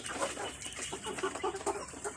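Chickens on a backyard poultry farm cluck in a steady, overlapping chatter at close range, with no talk over them.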